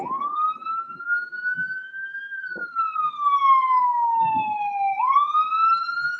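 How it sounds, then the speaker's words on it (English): A fire truck siren wails along a street in a slow rising and falling sweep, loud and steady throughout, while the background is otherwise fairly quiet apart from a few faint knocks. "A fire truck right there."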